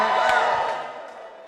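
Wedding guests roar and whoop after the best man's speech, a loud crowd cheer with a few scattered claps that gradually fades away.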